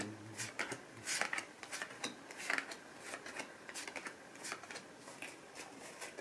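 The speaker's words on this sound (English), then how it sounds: "This is sort of an easy way to shuffle if you're worried about messing your cards up" Tarot cards are shuffled again and again in quick, soft riffling bursts, close and fairly quiet, with no talking.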